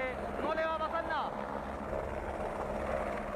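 A rescue helicopter hovers over a Chilean beach during a water rescue, its steady rotor and engine roar filling the air with wind buffeting, while a voice speaks briefly early on.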